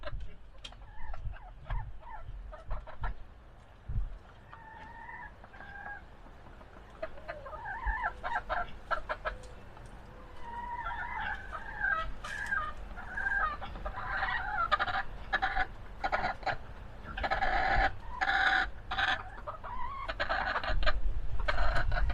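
Chickens roosting on a bar under a roof cluck repeatedly, with soft, scattered calls that grow busier and louder over time, accompanied by rustling and faint knocks.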